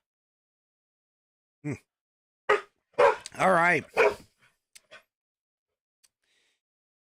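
A guard dog gives a few scattered barks indoors at moderate distance, mixed with brief spoken words and a voice, with quiet pauses between.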